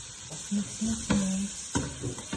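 A hotdog fries in melted butter in a pan, a soft steady sizzle broken by a few clacks of stirring and short hum-like tonal blips.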